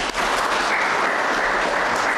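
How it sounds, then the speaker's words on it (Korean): Dense, steady applause from a congregation at a church induction and retirement service in Australia, a continuous wash of clapping that fills the whole moment without voices. "박수하겠습니다."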